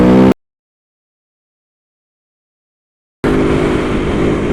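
An Aprilia Tuono V4 motorcycle ridden in third gear, running an Aprilia race map on soft suspension: a loud engine roar cuts off abruptly, leaving a long silent gap, then returns as a steady, dense drone close by.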